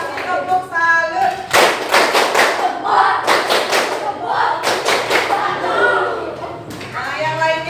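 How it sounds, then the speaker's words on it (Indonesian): A class of children claps together in rhythmic bursts, a patterned salute clap repeated several times, close and loud, while children's voices chatter between the bursts. "Kasih tepuk salut."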